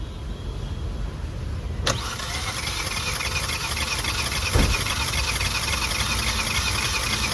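A car with a pickup problem and juddering clutch turns over and catches at about two seconds, then settles into a steady, close engine rumble that runs to the end.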